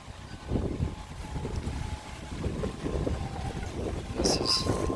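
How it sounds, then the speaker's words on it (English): Gusts of wind buffet the microphone outdoors in a spring flower garden, a steady low rumble that swells and eases over the whole stretch, with a brief brighter hiss near the end and no talking. "Hello, wind."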